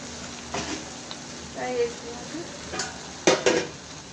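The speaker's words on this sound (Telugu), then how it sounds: "మిరియాలు వేసినామండి. ఇవన్నీ వేసి ఫ్రై చేసుకుంటున్నాను" Peppercorns and spices frying in a pan for a fish masala curry, with faint sizzling and intermittent stirring scrapes and clinks, while someone talks over the cooking.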